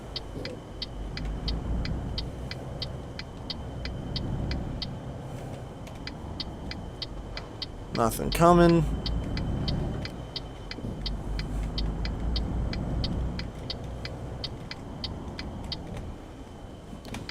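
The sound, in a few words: Mercedes truck engine driving off in video game Euro Truck Simulator 2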